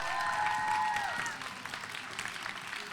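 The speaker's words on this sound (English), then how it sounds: "Keep that applause going for your next poet on the mic, Sam, from grade 12, doing When I Grow Up." Steady applause from a crowd fills the space, a voice trailing off at the start before the clapping continues evenly.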